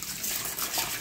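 A steady hiss of running water flows over a pineapple being cleaned thoroughly before peeling, a brief continuous wash with no pauses.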